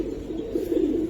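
Giribaz pigeons coo in a low, steady murmuring drone that swells slightly toward the end, close by and moderately quiet, with no talking over it.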